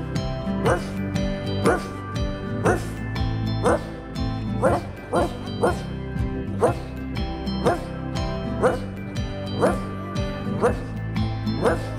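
A voice imitates a small dog barking, a steady run of short, evenly spaced yaps sung over a rhythmic children's song backing.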